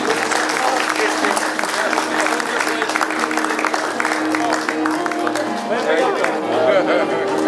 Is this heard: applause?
yes